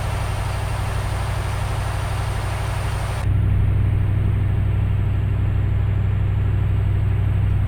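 Kamaz truck engine in Euro Truck Simulator 2, a steady low rumbling drone heard close and loud throughout, shifting to a deeper, heavier tone partway through, with no voices.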